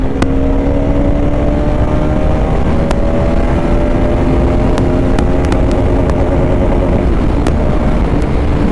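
A Bajaj Pulsar RS 200 motorcycle accelerates hard through its gears, the loud, close engine note climbing steadily under heavy wind rush with a few sharp ticks.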